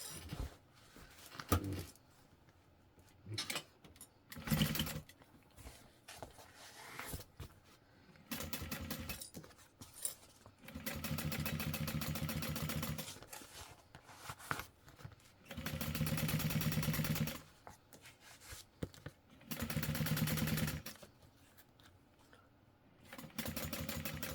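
A sewing machine topstitches a handbag seam in bursts of rapid, steady whirring, each run lasting a few seconds and separated by pauses with small clicks and handling noises, close and clear.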